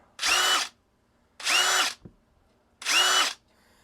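A Ryobi cordless impact wrench runs in three separate bursts of about half a second each, loud and close, with short silent gaps between them.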